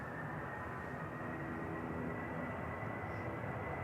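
A jet aircraft departs Manchester Airport on a windy day, its steady broadband roar rumbling continuously at a distance without a break.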